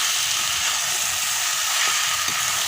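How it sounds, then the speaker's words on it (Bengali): Catla fish heads, already fried, go into a hot pan of simmered jackfruit curry, giving a steady close sizzle and frying hiss with faint stirring clatter, no voices. "দিয়ে দেবো ভেজে রাখা মাথাগুলো।"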